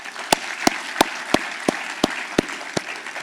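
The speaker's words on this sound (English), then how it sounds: "Let's give another round of applause to all our sponsors." Applause from a conference audience at a business gathering on giving and nonprofits, a steady wash of many hands clapping with a few sharper individual claps standing out at regular intervals.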